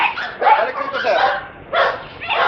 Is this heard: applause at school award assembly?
no